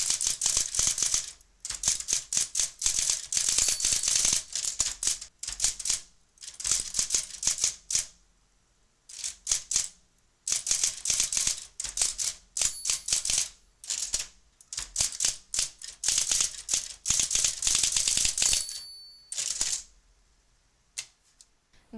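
Olympia electric typewriter typing in rapid bursts of sharp, clacking keystrokes, dense runs of strikes separated by short pauses, close and loud with no talk.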